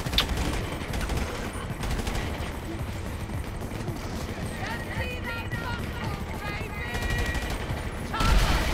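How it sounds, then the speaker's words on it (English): Gunfire in Grand Theft Auto 5, a busy stream of shots and rattling bursts through a firefight, fairly loud throughout with game noise layered underneath. "How are you shooting me through that tin?"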